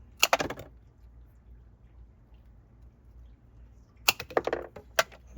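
A cable for a solar panel charger being cut, heard as two brief bursts of crisp snipping clicks, one at the start and one near the end, separated by quiet, close and with no talk.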